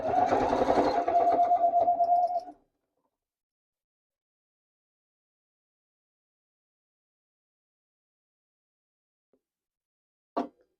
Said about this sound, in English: I'm going to take it back to the sewing machine, and you just want to sew straight across, back stitch, one more time.